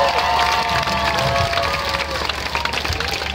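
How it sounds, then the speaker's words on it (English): A street festival audience at a buskers' show cheers loudly on cue, a dense wash of shouts, whoops and clapping from a close crowd. "Give me some noise and cheer."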